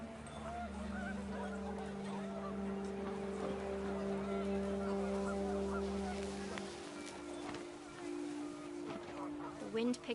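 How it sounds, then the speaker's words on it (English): Geese honking in the video game What Remains of Edith Finch, rising as a loose, overlapping chorus of calls over a steady low wind-like drone, moderately loud throughout, with the flock thinning toward the end. "The wind picked up, and panicked geese appeared and quickly went."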